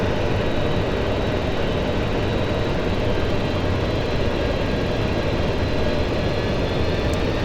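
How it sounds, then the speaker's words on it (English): Four Rolls-Royce Olympus jet engines roar from an Avro Vulcan in X-Plane 11, a continuous dense broadband rumble with steady loudness throughout and no voices. "Those 4 Olympus engines sounding incredible."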